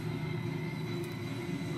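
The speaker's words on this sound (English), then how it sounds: "The train!" A train passing in Metroid Prime 3: Corruption, a steady, loud mechanical rumble and hum with a continuous droning tone that holds evenly throughout.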